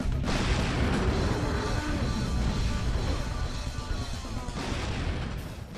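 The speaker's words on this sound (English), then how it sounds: "I never actually got to show off the rocket launcher in main gameplay, and yes, I'm aware that one of those shots missed" Rocket launcher fire in the video game Dino Crisis 2, a dense, loud, continuous rumble of booming blasts and crashing impacts that stays heavy throughout.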